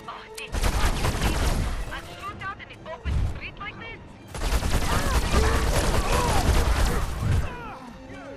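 Bursts of gunfire ring out in the video game Destroy All Humans! 2, dense volleys in two long stretches with a brief lull between, loud and continuous, while a voice speaks over the shooting.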